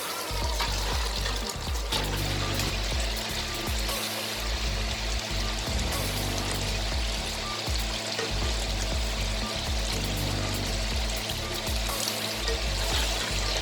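Green chilies drop into a pan of aloo baingan masala, aloo and baingan frying together, bringing a steady crackling sizzle with bursts of bubbling and spattering throughout, loud and close with no talking.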